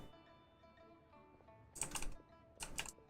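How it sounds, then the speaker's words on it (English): Typing on a computer keyboard: faint key clatter under a low background hum, then two louder bursts of rapid clicking close by. "Can you guys hear my keyboard?"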